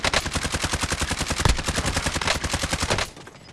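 Rapid automatic gunfire from a first-person shooter video game, a loud sustained burst of evenly spaced shots lasting about three seconds before cutting off abruptly.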